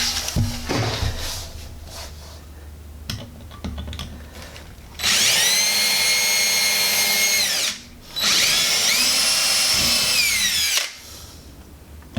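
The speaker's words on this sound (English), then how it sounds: "You know your drill bit's in bad shape when it's struggling to get through some aluminum." Worn drill bit in a handheld drill struggling through aluminum, with clattering handling noises followed by two long, loud, whining drilling bursts separated by a short pause.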